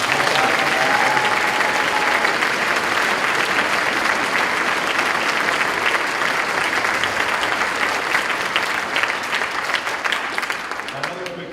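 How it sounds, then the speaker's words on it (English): Sustained audience applause at a school orchestra spring concert, a dense even wash of clapping lasting the whole stretch and tapering slightly at the end, with a brief faint voice early on. "So a round of applause for Mr."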